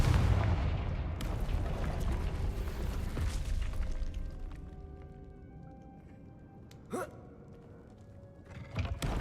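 A Confringo fire spell in Hogwarts Legacy bursts with a loud, rumbling blast that slowly fades over several seconds, followed by a couple of sharp, quieter impacts near the end.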